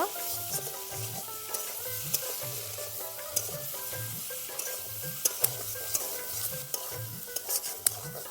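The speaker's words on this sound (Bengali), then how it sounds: "এইভাবে মুখি কচুগুলোকে আরও কিছুক্ষণ সময় ধরে ভালো করে কষিয়ে নেব" Taro roots with shrimp stir-fried in a pan, Bengali style: a steady sizzle runs under rhythmic scraping of a spatula against the pan, with sharp clinks at irregular intervals, close and continuous.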